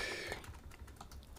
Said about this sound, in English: I'm even typing to see.